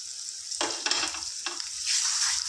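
Tangy egg curry with tender tamarind leaves frying in a pan over high heat, giving a close sizzling hiss broken by a few quick stirring scrapes that swell into steady frying.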